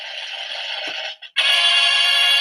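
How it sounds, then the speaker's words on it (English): Incoming-call ringtone on a phone, a loud steady electronic melody that rings alone, breaks off briefly, then resumes just as strongly. "So, I just had a call come into my phone."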